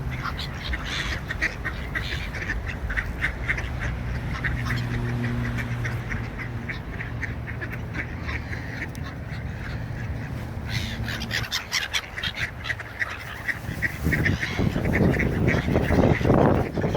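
Ducks and other waterbirds on the bank of the Thames near London quack and call continuously over a dense, loud outdoor wash, growing busier and closer toward the end.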